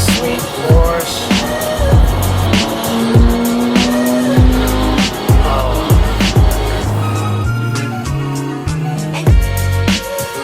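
A sweet Porsche on the road near Lakewood and Tacoma, with strong engine revs and shifting tones rising and falling over a steady loud rumble, tire noise and sharp bursts running through the whole stretch.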